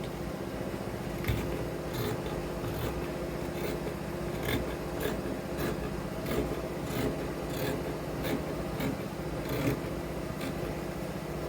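Scissors cutting out a fabric trouser pattern piece for palazzo pants, a steady series of rhythmic snips and rasps over a constant background hum, close and moderately loud with no talking.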